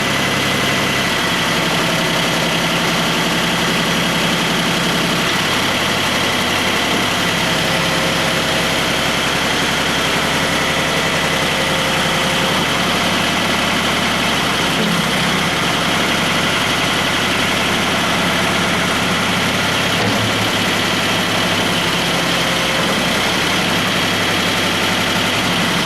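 A John Deere 1050 tractor engine idles steadily close by, a continuous low mechanical drone with vibration that stays even and loud for the whole stretch, with no talking.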